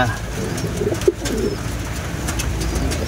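Breeder pigeons cooing close by, low rounded coos repeating under a dense background of other birds and faint room noise.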